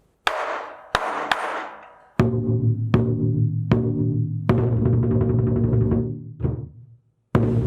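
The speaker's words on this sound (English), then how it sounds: "So that's the 3 rolls." A lion dance drum with its ensemble: a few sharp separate strikes, then loud sustained rolls in short bursts building to a longer roll, ending with a final hit. Close and without talk.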